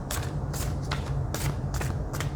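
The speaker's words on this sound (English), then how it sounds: "I'm going to shuffle a couple more times." Oracle cards are shuffled by hand in rhythmic riffling bursts about every half second, close and crisp over a low steady hum, with no talking.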